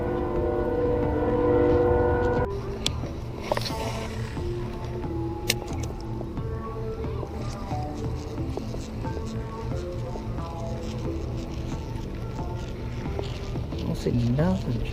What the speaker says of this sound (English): alarms, trains, all sorts of noise.